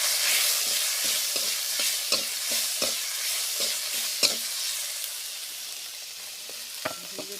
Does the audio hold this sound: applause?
no